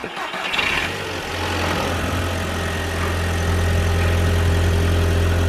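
A car engine with PCV trouble cranks and fires up, then settles into a steady, close idle with a deep low rumble that continues to the end.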